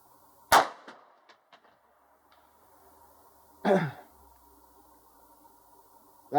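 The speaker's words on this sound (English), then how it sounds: "Let me shoot a third round." Two sharp outdoor gunshots from a Ruger Security 9 pistol, a few seconds apart, each a loud crack with a short ringing tail over faint background hiss.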